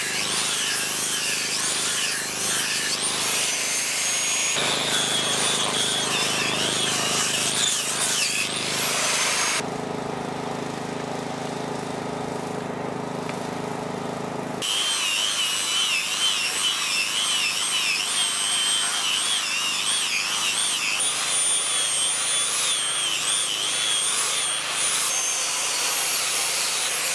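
A power sander runs on logs for an off-grid log cabin, a steady whining motor drone with shifts in pitch and load as it works the wood, close and continuous throughout.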